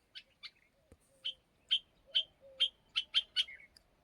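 A bird on a hillside repeats sharp high chirping calls, about nine short notes at a steady, slightly quickening pace, clear but moderately distant against a quiet outdoor background.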